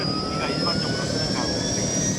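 A KUH Surion Korean military utility helicopter at an army aviation school produces a steady, loud turbine whine with a continuous rotor roar, unbroken throughout.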